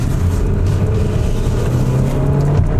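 Engine drone from a 2024 VW Tiguan R-Line SUV runs steady and loud while driving, with a low rumble and a slowly rising tone that suggests gentle acceleration. The sound is heard from inside the cabin and no one talks.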